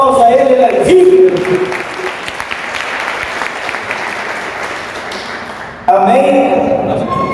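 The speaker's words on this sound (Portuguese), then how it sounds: "Dê mais forte esse aplauso a Ele, ele é vivo" A church congregation claps at a Hanukkah service, a dense wash of applause lasting several seconds, with a voice speaking over it at the start and end.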